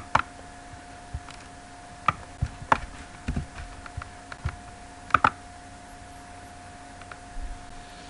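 Sparse clicks of computer keyboard typing while editing text, a few isolated keystrokes and short clusters spread unevenly over several seconds, close and fairly quiet over a faint steady hum.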